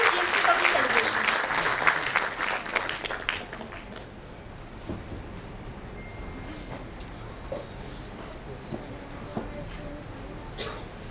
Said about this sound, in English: That calls for a huge round of applause.